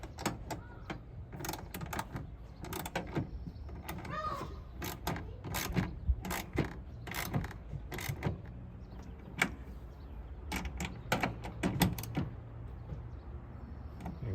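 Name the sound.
ratchet with socket tightening tonneau bed cover clamp bolts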